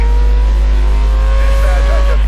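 A race car engine revving hard at full throttle in Need for Speed Most Wanted 2012, a loud steady engine drone with rising pitch, with a brief tire screech near the end and a voice talking over it.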